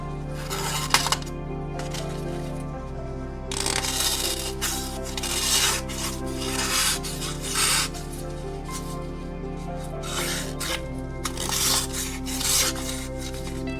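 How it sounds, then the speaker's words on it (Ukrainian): A General knife slices through cardboard box paper in repeated scraping, rasping strokes at close range over a steady low background hum. "Чи ріже він бумагу з коробки."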